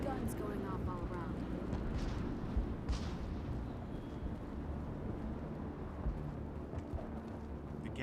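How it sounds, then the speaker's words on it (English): Battle in Mass Effect fighting the Geth, a dull, rumbling wash of distant explosions and gunfire with a few louder thuds, low and continuous, partly under speech. "Guns going off all around."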